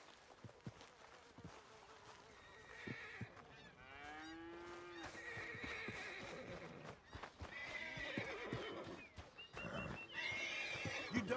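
Horse in the video game Red Dead Redemption 2 gives a rising, wavering neigh, with hoof clip-clops and livestock lowing nearby on a farm, fairly close and clear among scattered knocks.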